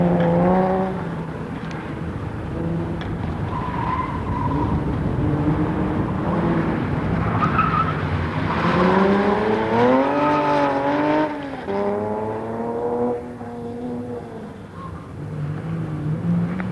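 Datsun 240Z on an autocross run, its engine rising and falling through quick accelerations and lifts, fairly close and continuous, with a rough racing note.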